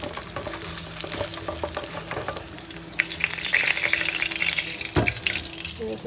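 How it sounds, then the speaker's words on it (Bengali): Fish fillets fry in hot oil in a pan while a radish vorta dish is being prepared, a loud continuous sizzle with clattering stirs and a sharp knock near the end, no talk. "তারপরে মাছগুলো ফ্রাই করে নিলাম তো আমার মাছগুলো ফ্রাই হয়ে গেছে"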